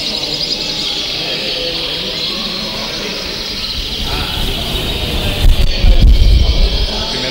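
Birds at an ornithological expo sing in a dense, continuous high-pitched chatter of chirps and trills. The birds are moderately loud throughout, with some low handling noise and bumps toward the end.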